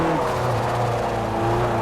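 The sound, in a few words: 2000 Honda Prelude accelerating in video game Forza Motorsport 4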